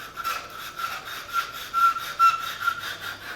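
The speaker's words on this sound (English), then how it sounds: "I would take my sandpaper, and I'm using cloth. Got to use cloth. And I'm going to go through both halves, and I'm going to do a little sand." Cloth-backed 150-grit sandpaper rubs over wooden flower halves in repeated back-and-forth strokes, a rhythmic, fairly faint scratchy rasping with no talk.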